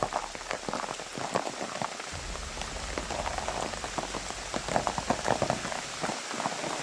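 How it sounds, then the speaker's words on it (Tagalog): Steady rain patters on surfaces close by, a dense, hissing wash with scattered sharper drops, continuous throughout with a low rumble joining partway. "Ulan pa ni."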